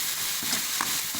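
Ground tomato added to ginger garlic paste frying in a pan for chilli chicken gravy, a steady loud sizzle with a few stirring scrapes, close up and without talk.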